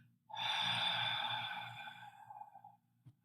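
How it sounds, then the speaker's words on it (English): One long, steady breath exhaled through the mouth during a breathing exercise, close and airy, lasting a couple of seconds and tapering off, with a faint low background hum. "then we're going to exhale through the mouth."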